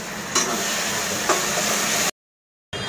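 Chili, garlic and ginger masala roasting in a pan, with a steady close sizzle and hiss, a couple of brief stirring scrapes, then a sudden cut to silence before the sizzle resumes.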